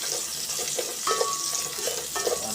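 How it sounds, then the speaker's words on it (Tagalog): Ginger and other ingredients sauté together in a pan for tinola, a steady close sizzle with a few scraping stirs and faint metallic clinks, no voices. "ginigisa na natin"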